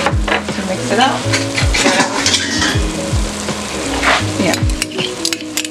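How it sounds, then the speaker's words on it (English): A spoon stirs oyster sauce through a hot pan of food while preparing steamed salmon, with scraping metal clinks over a constant loud sizzle and a brief word spoken. "I'm going to get another spoon to mix it up"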